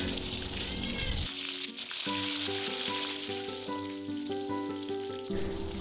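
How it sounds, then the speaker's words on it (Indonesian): Garlic, shallots and halved tomatoes fry in hot oil in a wok, a steady close sizzle and crackle that runs throughout with no talk, with some faint tonal background sounds mixed in. "Masukkan juga tomat yang udah kita belah jadi 2, kemudian goreng hingga layu saja."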